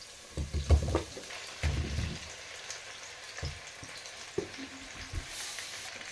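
Onions frying in a pot for Nigerian yam porridge, a faint soft sizzle with a few dull clunks and stirring bumps, quiet and close, with no talking.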